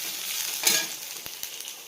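Garlic sizzling in a hot pan for a kanji tarani dish, a steady broad frying hiss with a brief louder crackle flare and a couple of soft utensil taps.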